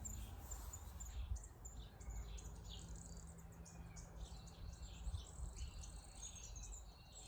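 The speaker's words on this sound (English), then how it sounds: "Just little birds around today, little Tweety birds." Small birds chirp and tweet outdoors in a steady scatter of short, high calls, with a faint insect-like trill running underneath and no voices.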